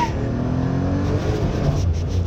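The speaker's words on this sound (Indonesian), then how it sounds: "dia ada ini lagi, ada rev limiter. Ada soft limiter" A 2023 Citroën C3 engine revs hard against its soft rev limiter, a close, steady droning roar without clear breaks.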